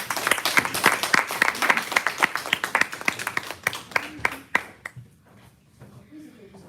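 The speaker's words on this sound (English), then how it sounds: "Please let's clap for her." Audience applause at a Toastmasters meeting held for International Women's Day: a run of dense, crisp hand claps from a room of people that thins to a few scattered claps and dies out after about five seconds.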